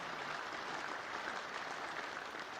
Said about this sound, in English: A round of applause for your great grandma